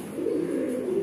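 A Jabra pigeon, an adult bird in moult, gives a short, soft cooing call up close, a single low murmuring phrase with no other sound around it.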